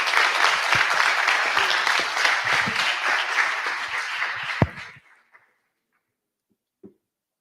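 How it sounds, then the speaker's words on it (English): An audience at a conference applauds a speaker, sustained full applause for about five seconds that cuts off abruptly, followed by near silence with a couple of small knocks. "Please give her a round of applause."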